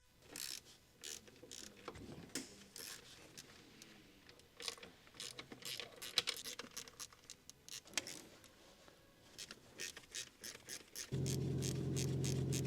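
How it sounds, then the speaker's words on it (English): A small ratchet on an 8mm long socket removes intake manifold screws on a Ford Explorer 3.5 engine, giving quick bursts of close clicking with brief pauses between them, then a steady hum near the end. "Use a small 8mm long socket with a small ratchet. Remove the 7 intake manifold retaining screws."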